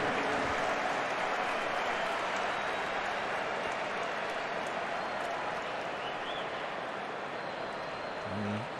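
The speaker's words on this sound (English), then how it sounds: "warm applause from a large contingent of Arsenal supporters for the skipper" A large contingent of Arsenal supporters gives the captain warm applause at a club friendly against Barcelona, a broad steady wash of distant clapping and crowd noise from the stands that runs throughout.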